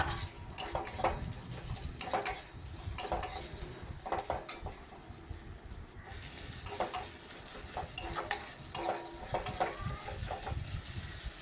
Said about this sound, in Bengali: পেঁয়াজ, টমেটোটাকে আমি আদা রসুন এর সঙ্গে ভালো মতো একটু নেড়ে চেড়ে কষিয়ে নিচ্ছি